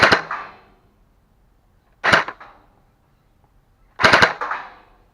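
A Scar V2 gel blaster fitted with an upgraded 1.3 spring, aluminum barrel and DK J8 hop-up fires three sharp, close shots about two seconds apart, each a snappy crack with brief ringing.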